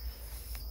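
Yellow crickets in a farm cage chirp in a thin, steady high trill, with a low rumble of background noise beneath and no talking.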